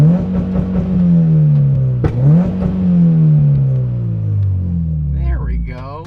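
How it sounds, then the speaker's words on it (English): A ZN6 car's engine revving hard during a launch control test, loud and close, with a quick rev blip then a falling drone, and a person's voice near the end. "I want to see if the launch control worked"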